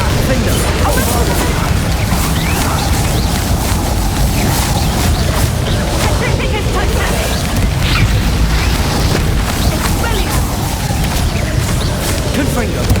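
Bombarda spell explosions crash and boom in a Hogwarts Legacy battle, buried in a dense, loud, continuous wash of combat noise and rumble across the whole stretch, with a voice speaking over it.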